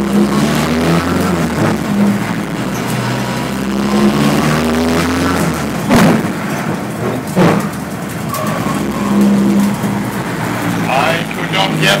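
A car engine revving and straining as the driver struggles to get it into third gear, a loud rising and falling drone with bumps and rattles, mixed with people talking.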